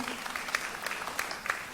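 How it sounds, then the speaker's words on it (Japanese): An audience at a live VTuber music event at Expo 2025 gives a brief burst of dense applause, a steady crackle of many hands heard close, with a voice under it. "皆さんもう一度大きな拍手をお願いします。"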